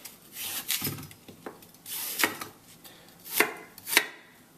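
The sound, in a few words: chopping apples on a board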